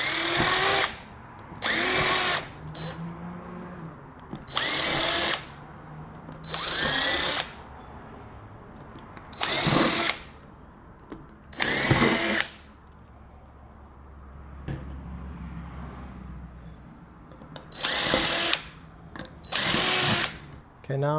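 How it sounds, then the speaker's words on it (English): A power drill bores holes through a plastic bucket lid for a DIY paver sealer sprayer, running in about eight short loud bursts of one to two seconds, separated by quiet pauses with faint background noise. "Now we'll drill the holes where they need to be."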